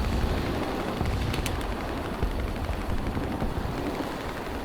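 Italian machine guns on a C.205 fighter in War Thunder rattle in a dense continuous burst over a heavy roaring engine, loud and steady throughout with no speech.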